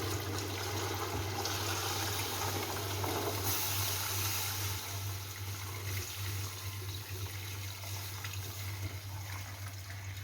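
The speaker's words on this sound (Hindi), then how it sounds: "जितना पानी हमने उबालने में इस्तेमाल किया था उस सारे का सारा पानी हमने इसमें शिफ्ट कर दिया है" Water used for boiling mutton paye (trotters) is poured into a cooking pot in a kitchen, making a steady continuous gushing splash with no pauses.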